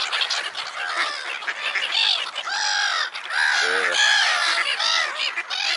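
Several nearby birds squawk and caw loudly in overlapping, raucous bursts that continue without a break, harsh cries stacking one over another.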